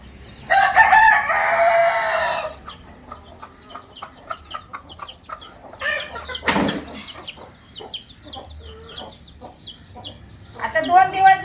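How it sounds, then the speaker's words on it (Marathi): A lame desi village rooster gives a loud, drawn-out crowing call up close, followed by a string of short clucks and softer calls, with a person's voice heard at times. "मी तुम्हाला तो कोंबडा दाखवते"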